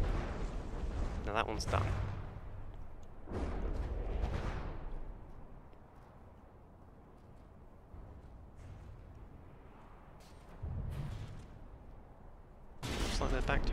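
A battleship fires railguns and turrets in the naval game From The Depths, with several heavy booming blasts coming in separate bursts and lower rumbling between them, while someone talks.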